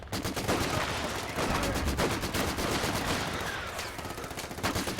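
Vickers machine gun fire in Company of Heroes 2, dense rapid bursts of shots rattling almost nonstop amid other battlefield noise.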